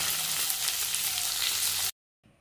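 Chopped onion and tomato sizzle steadily in a hot pan for onion chutney, a loud continuous frying hiss that cuts off abruptly into near silence.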